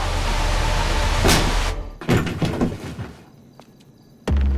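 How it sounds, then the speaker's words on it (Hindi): Heavy thuds and cracking as a door is forced open by breaking it down, landing in loud impacts over a noisy rumble, then a quieter pause before a final sharp bang. "दरवाजा तोड़ना पड़ेगा।"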